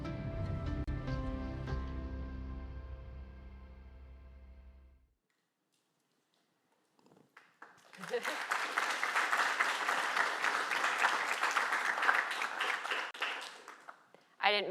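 Seminar audience applauds after a video plays: music ends, a brief silence follows, then a steady wash of clapping from many hands that swells for several seconds before tapering off.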